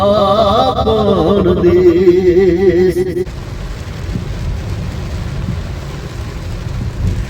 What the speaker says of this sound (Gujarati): જો આવો ચાલુ હે વરસાદ